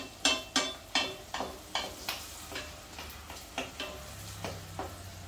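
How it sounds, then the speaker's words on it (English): Onion fries in a pan for a Jamaican callaloo and saltfish dish, a spoon scraping and tapping in a regular series of about a dozen crisp strokes over a soft, close sizzle. No voices. "just gonna fry the onion"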